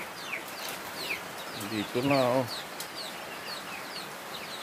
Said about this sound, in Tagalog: Pati mga manok.